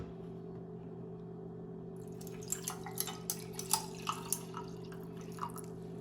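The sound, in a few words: pouring cold brew into glass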